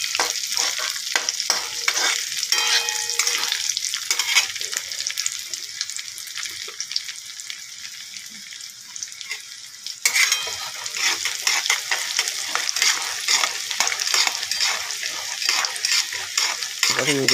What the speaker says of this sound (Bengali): সোনা মুগের ডাল দিয়ে দিলাম, দিয়ে এবার ভালো করে নেড়ে চেড়ে